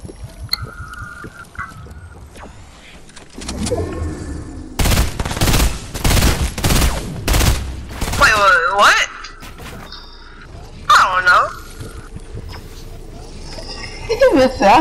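Bursts of rapid gunfire from Fortnite, several clustered volleys of sharp shots with quieter gaps and other game effects in between.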